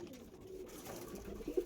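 Pigeons coo softly in a loft of breeding pairs, a low murmuring hum that swells into a couple of closer, louder coos near the end.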